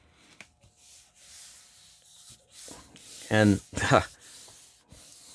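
Intermittent close rubbing and pressing sounds as adhesive backing is smoothed onto a sandpaper disk, quiet scuffs with a couple of louder strokes and a brief spoken word.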